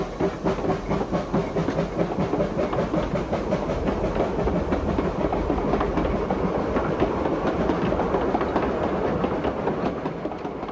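A steam train runs along a railway line on the route to Ballyshannon, its wheels keeping up a steady clickety-clack rhythm with hissing chuffs, continuous and moderately close, no voices.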